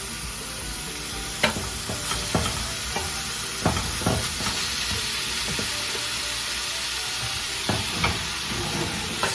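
Beef nacho mixture sizzles steadily in a hot skillet, a constant frying hiss broken by repeated scraping stirs and clacks of the utensil against the pan.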